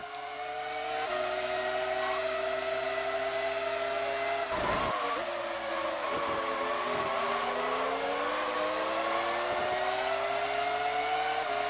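A Formula One car engine from the PS1 game F1 World Grand Prix, season 1999, wailing at a steady high pitch with shifting revs and brief dips during gear changes, loud and continuous, with no voices.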